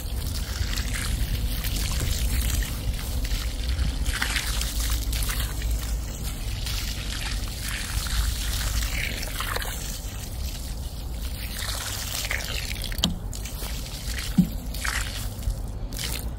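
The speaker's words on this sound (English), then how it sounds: "I'm just gonna put water in the hole." Water from a hose is poured into a freshly dug planting hole for transplanting a hibiscus in a Florida garden, a steady soft gushing and trickling, close by and continuous, with small splashes.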